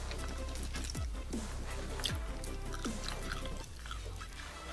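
Overcooked bacon in a giant Elvis sandwich of about 20000 calories is crunched between the teeth, several sharp close crunches and bites over steady chewing, with no speech.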